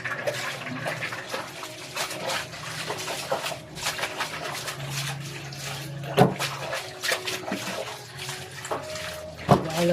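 Water pours into a basin for washing laundry by hand, a steady running splash with scattered clunks and knocks, fairly close and moderately loud.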